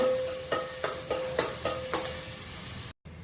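Onions go into a hot pan to fry, with a steady sizzle under a series of sharp stirring clacks of a spoon against the pan roughly every half second, heard close up before a brief cutoff.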